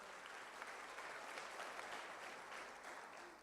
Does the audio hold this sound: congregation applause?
yes